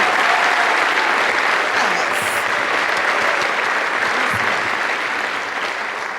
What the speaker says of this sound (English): Another round of applause for that incredible story.